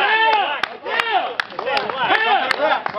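Sharp hand claps ring out at irregular intervals, loud and close, to guide a trainee through OC spray training, with someone shouting and talking over them.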